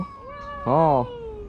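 A cat fighting with another in Busan, South Korea, gives a single loud, wavering meow, close and clear above a low steady hum.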